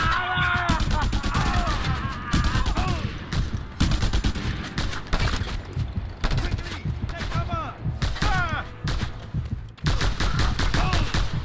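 Gunfire in the open-world action game Just Cause 2: dense, loud bursts of automatic fire and single shots repeating in clusters, mixed with shouted in-game voices and a player talking over the fighting.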